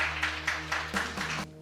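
An audience at a Ramayana quiz programme claps in loud rhythmic bursts, about six even beats of applause over a sustained musical drone.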